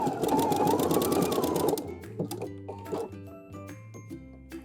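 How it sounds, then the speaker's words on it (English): A sewing machine runs a broken zigzag stitch through knit fabric while sewing high-waisted panties, giving a fast, loud rhythmic whirring burst for about two seconds before it stops and quieter tones follow. "today we're gonna be sewing with a broken zigzag stitch since we're sewing knit fabric"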